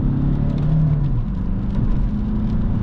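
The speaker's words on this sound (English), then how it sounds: "Second gear, full throttle." Alfa Romeo 159 1.9 JTDm diesel with 150 hp under full throttle in second gear, a loud, steady low engine drone heard from inside the cabin with faint road whir.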